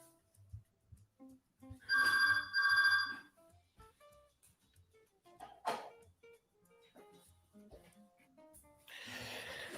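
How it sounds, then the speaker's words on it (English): A house telephone rings in two bursts of electronic trilling, clear and fairly close, followed by scattered quiet household noises, a brief breathy sound and a burst of rustling near the end. "Phone's ringing. House phone's ringing."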